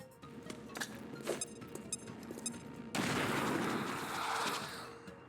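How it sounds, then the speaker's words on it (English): In the video game XCOM Chimera Squad, scattered gunfire-like pops and clicks give way to a sudden loud frag grenade explosion whose broad roaring blast and debris rumble fill the last few seconds. "We're gonna throw frag grenade. Frag out!"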